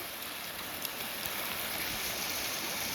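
A waterfall rushes after a storm, a steady broadband hiss of falling water heard from some distance, fairly faint and unbroken with no voices.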